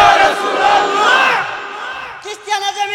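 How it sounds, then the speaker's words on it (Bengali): A large crowd at an Islamic religious sermon gathering shouts a slogan together, a loud, sustained roar of many voices that swells and then breaks into scattered shorter shouts. "স্লোগান দেন একটা।"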